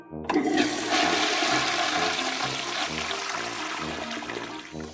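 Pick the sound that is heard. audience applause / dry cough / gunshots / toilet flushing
toilet flushing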